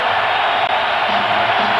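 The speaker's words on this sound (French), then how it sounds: "Et les huées de la Key Arena." Arena crowd noise at the Key Arena during the 1996 NBA Finals Game 5, Chicago Bulls at Seattle SuperSonics, a dense, sustained roar with booing from the stands.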